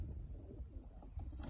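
Pigeons let out of their loft for a morning fly, with soft low cooing and rustling close by over steady background hum, continuous through the short moment.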